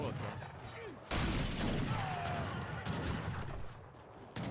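Musket gunfire in a tower defense RTS video game, with bursts of crackling shots and booms layered into a dense, continuous battle din, while a commentator talks over it.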